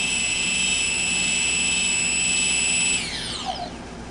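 Quadcopter electronic speed controllers playing calibration tones through the motors: sustained steady high beeping tones that hold, then slide downward in a falling sweep as the motors wind down, close and loud.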